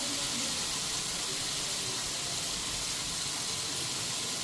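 Spice paste frying in a pan for a Bengali lentil-fritter curry gives a steady, dense sizzling hiss, close and continuous without pause, with no talk over it.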